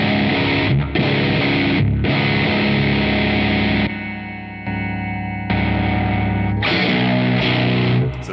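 A Danelectro '56 baritone guitar with a bottle headstock plays through a Meteor distortion pedal, loud and saturated, with sustained distorted chords and notes broken by a few short pauses.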